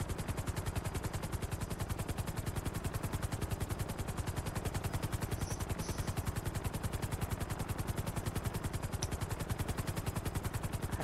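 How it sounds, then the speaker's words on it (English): Helicopter flying low in Grand Theft Auto 5, a continuous rapid rotor chop with a fast, even beating pulse that holds steady throughout. "Never tried to fly low with a helicopter before."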